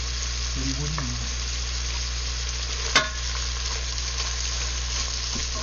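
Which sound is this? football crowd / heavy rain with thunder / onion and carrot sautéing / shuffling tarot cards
onion and carrot sautéing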